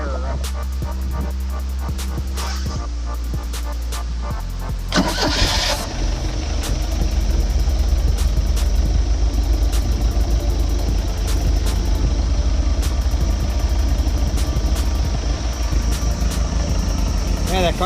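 Mercruiser boat engine with a freshly rebuilt carburetor cranking and catching at about five seconds, then settling into a steady, loud, even idle that continues to the end.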